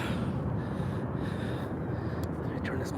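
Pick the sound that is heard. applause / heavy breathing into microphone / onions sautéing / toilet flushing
heavy breathing into microphone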